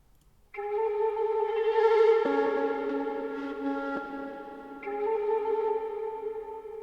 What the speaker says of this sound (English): And then I also went into Arcade and got this other flute sound,